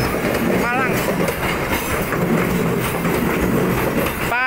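A passenger train on the Pasar Senen–Malang route rumbles along the rails with continuous loud clatter and wheel noise, and brief squeals rise near the start and end.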